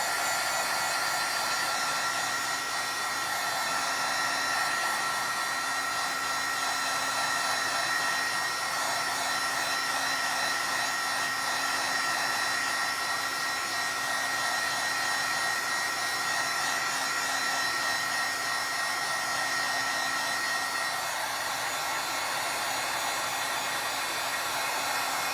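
Heat tool blowing hot air to dry ink on a note card, a continuous, even whooshing hum that holds steady from start to finish without pauses or talking.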